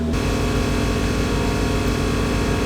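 A car air suspension compressor runs with a steady, droning motor hum and a low rhythmic pulse, continuous, close and even, with no voices.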